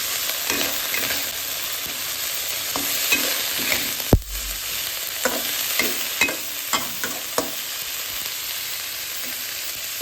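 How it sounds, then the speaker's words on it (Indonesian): Cauliflower with egg and spices is stir-fried in a pan: a continuous sizzle with repeated scraping and knocking strokes of the utensil, one sharp louder clank midway, and no talking. "Kita gongseng dulu supaya bumbunya merata ya."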